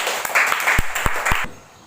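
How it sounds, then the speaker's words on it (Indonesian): A classroom group claps for the Islamic teacher (ustaz), a short, loose burst of hands with a few sharp distinct claps standing out before it stops abruptly. "Tepuk tangan untuk Ustaz."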